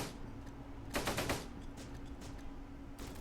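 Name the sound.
grenades and gunfire in video game Close Combat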